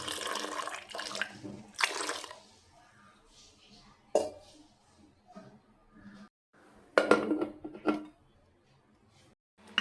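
Water splashes in bursts into a pot while sambar dal is prepared in a home kitchen, with quiet gaps, faint clinks of the vessel and no speech.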